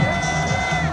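Crowd at an outdoor candlelight civic rally cheering and clapping for a speaker, loud and close, a dense burst of whoops and voices with a speaking voice mixed in.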